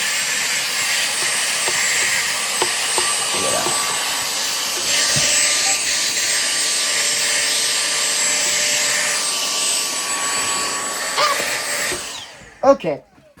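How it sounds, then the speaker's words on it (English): A vacuum cleaner runs loud and steady with a constant whining motor drone for about twelve seconds, then shuts off, followed by a couple of brief knocks. "so let me vacuum noises. Sorry, it's gonna be really loud."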